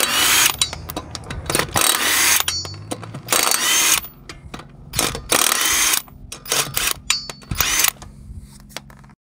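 Lug bolts on a car wheel being loosened and removed with a ratcheting or power tool during a wheel-balancing job, heard as repeated mechanical ratchet and whirring bursts with short pauses between them, close and fairly loud.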